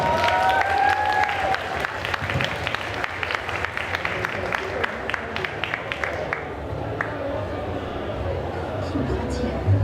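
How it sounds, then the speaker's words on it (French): Audience applause greets a cosplay contestant at a Japan-themed convention costume contest, a loud crowd clapping fills the hall, with a voice speaking over the start and the clapping thinning out toward the end. "on va accueillir, comme il se doit, s'il vous plaît, Alexa Cosplay, qui nous interprète Belle du live action de La Belle et la Bête. Applaudissements!"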